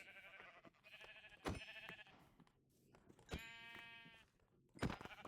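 Sheep bleat repeatedly in a Minecraft village, three loud wavering cries spaced a second or two apart, each with clear harmonic bands, over quiet game ambience.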